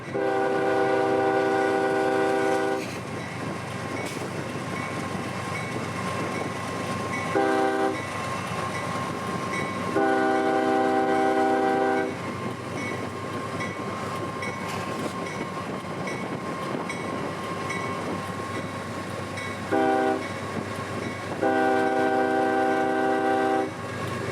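A freight train rolls past steadily with a constant rumble and wheel clatter, while its horn sounds in several long and short blasts. It stays loud and close throughout, with no voices.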